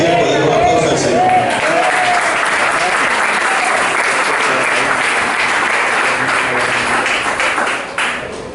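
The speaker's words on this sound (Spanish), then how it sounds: "Los que están despiertos, denle un aplauso al Señor." Loud, sustained applause from a church congregation at a Spanish-language evangelical service, steady and dense for about eight seconds before easing slightly at the end, with voices mixed in.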